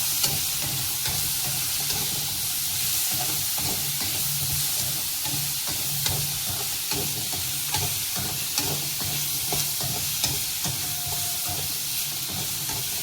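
Onions and tomatoes with salt sautéing in a pan for a mushroom gravy, a steady close sizzle and hiss with frequent light stirring scrapes throughout, no voices.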